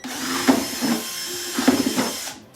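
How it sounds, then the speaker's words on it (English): A power drill whirs steadily up close, with a few louder grinding surges as it bites into material, then winds down at the end. "So I'm just going to drill"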